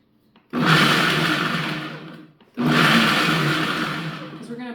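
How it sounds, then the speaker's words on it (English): A countertop blender pulses walnuts with a pinch of sea salt in two loud, close bursts of whirring motor roar, each about two seconds long with a short silent gap between. "Just give this a little pulse"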